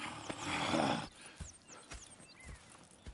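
Horses in Red Dead Redemption 2 at a camp, with a soft snort and then quiet hoof clops and shuffling nearby.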